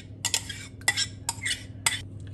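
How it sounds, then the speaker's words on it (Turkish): A spoon scrapes and clinks against a bowl in four or five quick strokes, stirring whisked yogurt into beetroot, close and clear over a low background hum. "Şimdi bunu şöyle güzelce bir karıştırıyorum."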